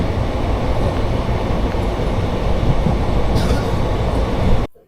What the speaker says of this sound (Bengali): আমরা ঢুকছি কলকা স্টেশনে